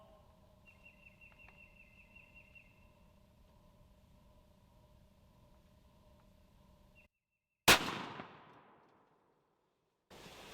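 A single loud shotgun blast at a turkey-load pattern target on a shooting rest booms sharply and decays quickly, following a quiet stretch of faint background hum and a distant bird call.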